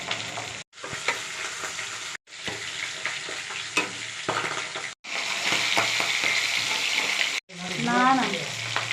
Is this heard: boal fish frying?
yes